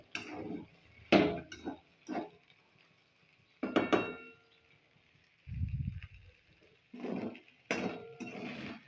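Sabudana khichdi being sautéed in a pan: intermittent clinks and scrapes of a spoon against metal in short bursts, separated by quiet gaps, with a muffled thud partway through.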